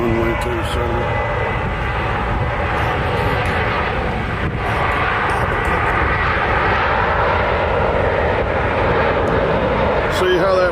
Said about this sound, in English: We got Southwest headed out here on runway 27.